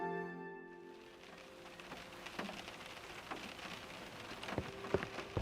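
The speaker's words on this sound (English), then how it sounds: "Sounds like it's raining." Rain patters softly in a video game, a faint, steady spray of drops on surfaces that fades in after a short musical tone, with scattered louder droplet taps.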